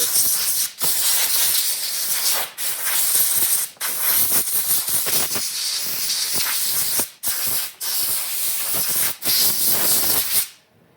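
Compressed air blasts rust off a fuel pump from a 2004-2016 Chevy truck or SUV in several loud, close hissing bursts separated by short pauses.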